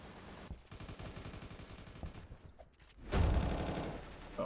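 Rapid bursts of AR rifle fire in the video game Aimblox, loud and close, with a short pause before a heavier, denser volley near the end.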